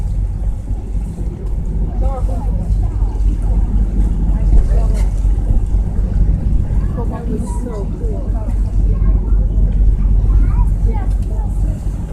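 Steady engine drone and wind rush from a whale watching boat at sea off Iceland, continuous and fairly loud throughout, with a voice speaking over it.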